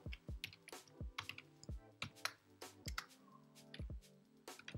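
Typing code on a computer keyboard, a quick irregular run of crisp, close key clicks with short pauses between bursts, heard alone without talk.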